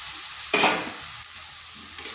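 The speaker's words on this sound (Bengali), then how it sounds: "এরপর এখানে দিয়ে দিচ্ছি কেটে রাখা লাউটা।" Chopped bottle gourd drops into a pan of simmering red lentils with a sharp sizzling splash, followed by a couple of quick stirring scrapes over a quiet background.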